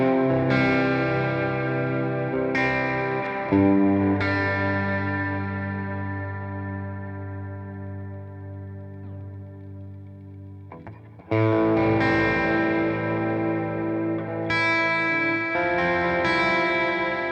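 Electric guitar played through a Hotone Ampero multi-effects unit using an amp capture with four effects engaged, giving distorted, chorused chords that ring out and decay, then fresh strums return loudly near the end.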